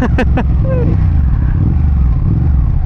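A Ducati 959 Panigale motorcycle engine roars steadily and loudly while riding at speed, with a rider's voice briefly heard early over the continuous engine and wind noise.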